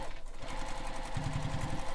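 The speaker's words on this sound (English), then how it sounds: "I'm just going to sew across here to go to the other side so I don't have to break stitches." A sewing machine stitches straight across a fabric backpack, its needle running in a quick, steady, close-up chatter that grows louder and more even in the second half.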